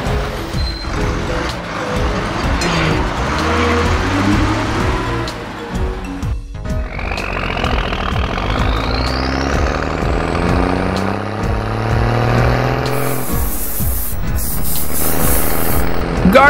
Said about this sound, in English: School bus.